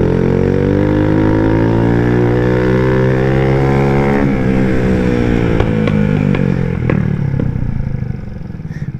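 A Brazilian moped (mobilete) revs loudly and close on a street ride, its engine pitch sweeping up and down through repeated rises and falls, with a few sharp clatters near the end before it eases off.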